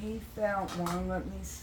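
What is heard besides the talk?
No everyday noise stands out behind the speech.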